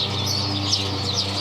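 Birds in a tree chirp and twitter in a steady wash of high calls over a constant low background hum, with a faint flutter of wings.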